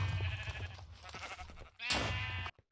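Sheep bleating in Minecraft, a couple of wavering bleats rising out of game background noise, the last one loud and close before an abrupt cutoff.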